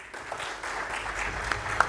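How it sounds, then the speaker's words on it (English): Audience applause at a tech conference in Dubai, a steady wash of many hands clapping at moderate distance, with a few sharper claps standing out near the end. "let's keep the applause going, everybody"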